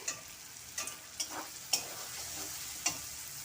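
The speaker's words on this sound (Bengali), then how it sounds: "মশলা ভাজা হয়ে গেছে, তেল ছেড়ে দিয়েছে।" Spice masala frying in oil in a pan while cooking a pointed gourd dish, giving a steady soft sizzle with a few sharp stirring clicks spread through the short stretch, close and alone.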